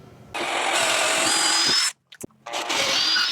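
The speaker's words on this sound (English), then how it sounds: "we'll drill a 5/16 inch hole" A power drill whirs loudly and close as it bores a 5/16-inch hole in a workbench, stops briefly with a few small knocks, then drills again.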